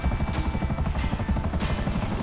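Helicopter in the video game GTA 5 Online, a loud continuous rotor chop pulsing rhythmically with a whining engine drone, heard close and alone.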